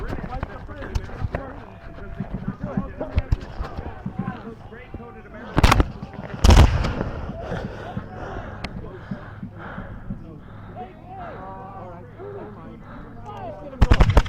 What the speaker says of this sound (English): I'm just waiting for them to fire.